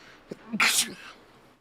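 A single sharp sneeze bursts out close to the microphone, preceded by a short intake of breath, then fades into quiet room tone.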